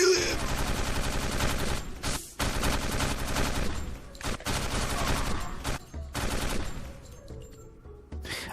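An AK rifle fires in an old FPS Creator video game, loud sustained automatic bursts separated by short pauses, with game sounds trailing off at the end.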